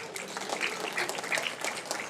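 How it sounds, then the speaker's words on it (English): Audience applause at a San Francisco Chinatown Lions Club gala, steady dense clapping from a crowd held at an even level throughout, with no voices over it. "give yourselves a round of applause"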